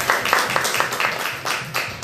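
Congregation clapping together in a church service, a brisk rhythmic burst of hand claps filling the room, with faint voices underneath.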